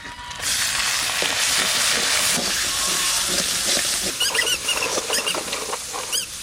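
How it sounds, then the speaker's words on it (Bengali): Onion paste hits hot oil in a village-style kitchen, giving a loud, close, continuous crackling sizzle with dense spattering pops that carries on steadily throughout, no voices over it. "এবার এই তেলের মধ্যেই আমি দিচ্ছি সবার প্রথমে পেঁয়াজ বাটা"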